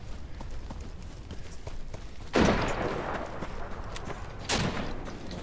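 Gunfire in the Deadside video game, with two sharp loud bursts standing out against a quieter, steady game background.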